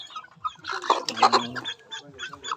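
Chickens cluck and squawk close by in a quick, busy flurry, with a low background hum.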